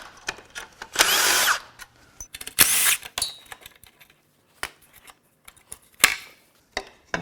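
Short whirring bursts from a power tool driving out bolts while removing the turbocharger from a 2021 Subaru WRX FA20DIT engine, close and loud, separated by pauses with scattered clicks and knocks.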